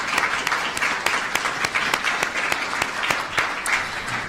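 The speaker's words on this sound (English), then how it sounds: "If you'd like to give yourself a round of applause" An audience at a building renaming ceremony gives a round of applause, a steady patter of many hands clapping at moderate volume that holds for several seconds.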